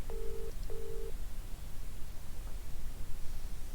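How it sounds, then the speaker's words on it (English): Two short electronic phone-dialing beeps sound near the start in the DDLC: Within video game mod, each a steady tone about half a second long, then fading into faint background hiss. "I take my phone out of my pocket and I decide to call her"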